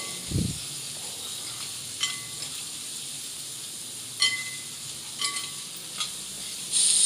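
Chopped onions with curry leaves sauté in a pan for a Tamil meal maker (soya chunk) kuzhambu, giving a steady soft sizzle with a few sharp stirring scrapes spread through, fairly close and without talk.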